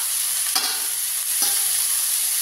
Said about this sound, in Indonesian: Ya, masukkan kecipir. Bismillah. Aduk. Bersamaan baksonya ya,